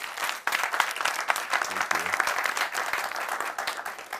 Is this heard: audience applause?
yes